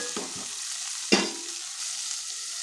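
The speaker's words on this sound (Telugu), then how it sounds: "వీటన్నిటి మనం కలిపేంత వరకు కలబెట్టేసుకొని ఇవి ఆయిల్లోనే ఇలా మగ్గేంత వరకు మనం కొంచెం మగ్గనిచ్చేసుకుందాం" Vegetables sauté in oil with a steady close hiss of frying, broken by a couple of soft scrapes and one sharper clink of a spoon against the pan, no voices.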